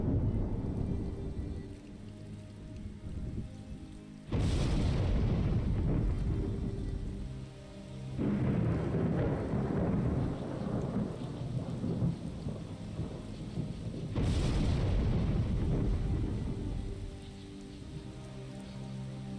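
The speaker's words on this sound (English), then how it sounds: "Starting to rain." Steady rain falls during a thunderstorm, hissing constantly on surfaces while two loud, close rolls of thunder crash in and rumble away.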